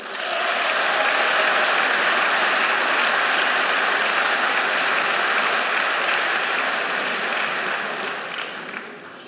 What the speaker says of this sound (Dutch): graag een daverend applaus voor onze eerste spreker van vandaag, senator Bob de Brabanderen